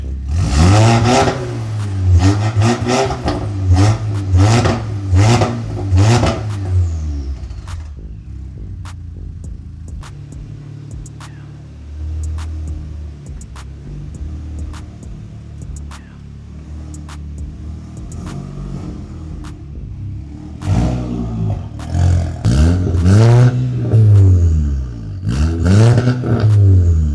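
Car with a Milltek race exhaust revving loudly in repeated rhythmic bursts, then settling to a low idle rumble for a long stretch before several more sharp revs near the end.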